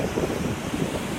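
Big ocean waves surging and breaking in Monterey Bay, a continuous loud roar of surf mixed with wind buffeting the microphone, without any talk.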